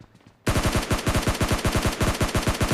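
SCAR assault rifle fired in PUBG Mobile Lite, a loud, steady full-auto burst of rapid, evenly spaced shots that starts abruptly after a brief quiet moment and runs on continuously.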